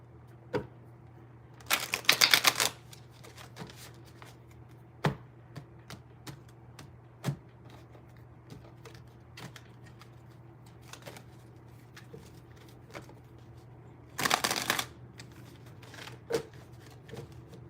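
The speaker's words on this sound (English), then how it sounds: "These ones needed a good shuffle." Tarot cards being shuffled in two short, crisp bursts of riffling, close and fairly loud over a quiet room, with small taps and clicks between them.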